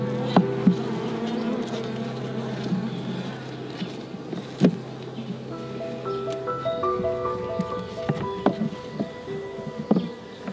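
Dense, droning buzz of many African honey bees close by at a hive being robbed, layered tones shifting as they fly around, with occasional soft knocks and rustles.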